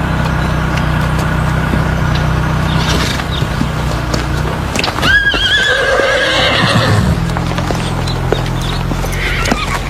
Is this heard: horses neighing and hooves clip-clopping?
yes